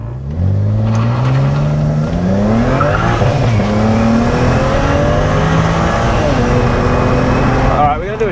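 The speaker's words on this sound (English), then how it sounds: "that wastegate rattle is very loud" A modified BMW 335i with turbos accelerates hard from a standstill, its engine rising through several gear changes in loud, close revs while the wastegate rattles. Voices are heard faintly over the engine.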